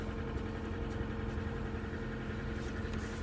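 A car engine idles after a cold start at minus 21 degrees on 0W-40 oil, a steady, close low rumble with slight vibration throughout and no one talking.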